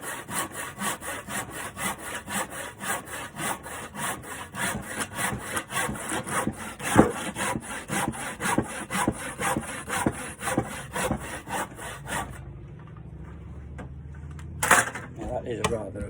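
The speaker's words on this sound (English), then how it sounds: "That is rather a big piece of wood to be cutting with a handsaw" Handsaw cutting through a big piece of wood with steady rhythmic back-and-forth strokes, close and loud, for about twelve seconds before stopping, followed by a quiet pause and a brief knock.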